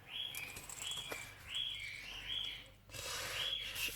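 Small birds chirp indoors nearby, a run of short, bright, repeated tweets at a quiet level, with a soft rustle and a brief shuffling noise partway through.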